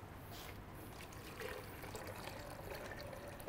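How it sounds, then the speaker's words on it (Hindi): Water poured into a cooking pot in a kitchen, a soft steady trickle and splash heard faintly and continuously with no talking. "इसके बाद आपने क्या करना है कि इसके अंदर पानी ऐड कर देना है"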